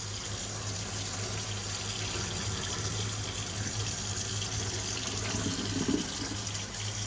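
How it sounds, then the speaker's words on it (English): Cold water running from a kitchen tap, a continuous steady stream splashing close by at an even level from start to finish. "turns the cold water on so he doesn't, like, burn"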